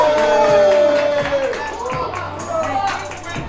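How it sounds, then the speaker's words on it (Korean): An audience at the Korea Battle Pro 2019 breakdance battle solo final claps and cheers in a loud, sustained burst of applause, mixed with voices and a tonal background. "큰 박수 부탁드립니다"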